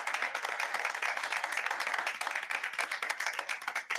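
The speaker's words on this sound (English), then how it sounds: "I mean, a formal round of applause." Applause from a small group at a formal board meeting, a steady dense patter of clapping lasting several seconds at moderate level with no talk over it.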